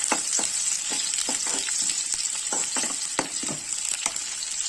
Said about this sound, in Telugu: ఇప్పుడు ఆనియన్స్ వేసుకొని కలుపుకోవాలి